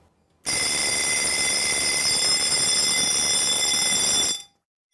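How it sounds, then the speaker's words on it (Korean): A smoke-type fire alarm set off by steam from boiling water rings out loud and close, a continuous high-pitched electronic tone held steadily for about four seconds before cutting off. "기존 경보기는 실제 화재와 관계없이 요리를 하거나 이처럼 끓는 물에 반응합니다"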